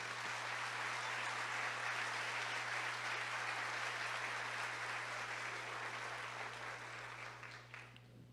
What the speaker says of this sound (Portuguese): Aplauda direito.